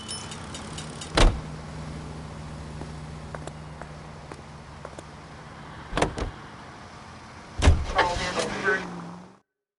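Car interior sounds in the 1940s Los Angeles detective game L.A. Noire: a low engine hum with several loud door thumps and clunks, ending in a rising engine note.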